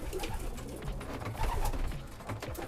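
Racing pigeons coo in a loft in Prahova, Romania, low soft calls repeating over a dense, busy background of many birds shuffling and fluttering nearby.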